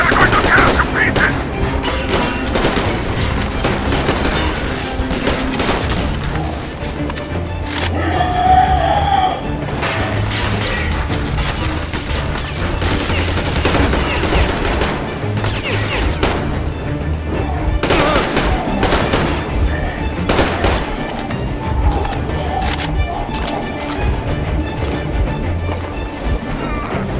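Heavy gunfire in the video game Metro Exodus runs continuously as rapid machine-gun bursts and crackling shots, loud and close, with crashes mixed in and voices shouting over the battle.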